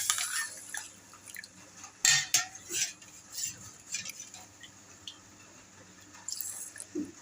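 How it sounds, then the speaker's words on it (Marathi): Water poured into a pot of washed rice, with a few sharp splashes and drips followed by softer trickles and light clinks of the pot, fairly quiet and close. "तर हे बघा 2 वाट्या मी पाणी घातलेलं आहे"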